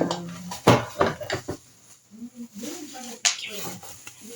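Metal and plastic pieces of a new cookware set clatter and clink as they are handled during unboxing, with a few sharp knocks followed by softer rustling and faint talk in the background.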